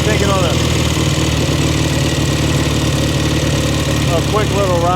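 A 1967 Kawasaki W1 650 motorcycle engine idles loudly and steadily close by. Its even mechanical throb continues throughout while people talk over it.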